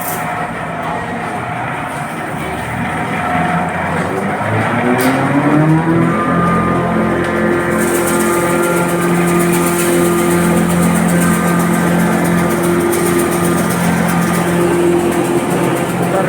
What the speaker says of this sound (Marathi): ही मशीन भरड्याची मशीन चालू झालेली आहे